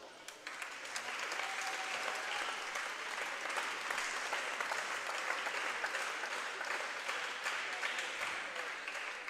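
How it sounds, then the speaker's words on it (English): Spectators in a high school volleyball gym give a steady round of applause for the volleyball parents, even dense clapping at moderate distance lasting the whole stretch. "Please join me in giving our volleyball parents a round of applause"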